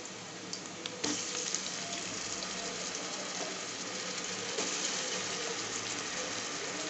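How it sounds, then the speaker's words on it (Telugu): Ginger garlic paste sizzles and fries in a pan with tomatoes while mushroom biryani is cooked. A steady, even crackling hiss runs throughout, with a few faint stirring clicks and no voices. "కొద్దిగా వేగిన తర్వాత అల్లం వెల్లుల్లి పేస్ట్ వేసుకుంటున్నా"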